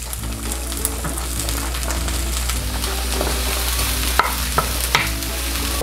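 Tofu slices and green beans fry in grape seed oil with a steady, dense sizzle and occasional stirring clacks, loud and close throughout, no talking.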